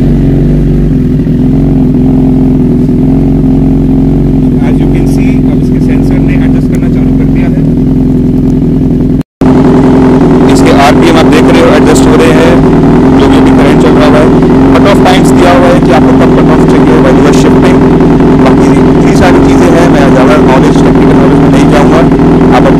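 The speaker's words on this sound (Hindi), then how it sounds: "So let's fire up the bike and आपको मैं दिखाता हूँ ये आप कैसे चलती है।" A Suzuki GSX-R 1000 superbike engine runs loud and close, droning steadily with a brief cut around the middle before it roars back at a higher, revving pitch.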